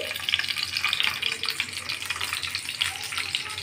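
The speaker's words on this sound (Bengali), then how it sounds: "তেলটা গরম হয়ে গেছে, আমরা এবার পটলগুলো এক এক করে এর মধ্যে দিয়ে দিচ্ছি।" Pieces of pointed gourd (potol) dropped one by one into hot oil, crackling and sizzling steadily and fairly softly close at hand, with no talk.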